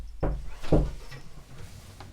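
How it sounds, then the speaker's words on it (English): A dog bangs against a door indoors: two dull, fairly quiet thuds about half a second apart, followed by faint room noise. "can bang the door all you like."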